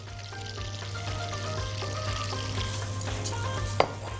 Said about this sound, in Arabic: وان انا اقعد اشوح في الرز لغايه ما يسخن خالص معايا